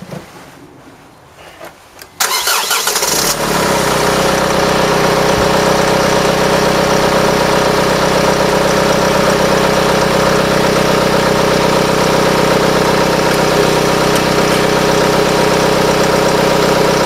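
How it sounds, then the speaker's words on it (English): A diesel engine in a Honda Civic MK8 CDTi, 2006 to 2011 model, cranks briefly, fires up and settles into a loud, steady idle that drones on close by with no voices. "Let's run the engine."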